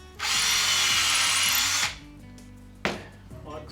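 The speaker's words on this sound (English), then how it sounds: "what I do is drill a pilot hole first," A power drill bores a pilot hole into a piece of wood for a fat wood bolt in a table-lamp turning project, giving one steady loud whirring run of about a second and a half, then a shorter burst after a pause.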